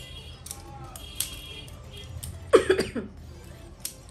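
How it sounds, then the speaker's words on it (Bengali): A person coughs in a short, loud burst of several harsh hacks near the middle, against a quiet room with faint background noise, with no talk. "কাশি হয়েই যাচ্ছে খুব খুব খুব খুব করে"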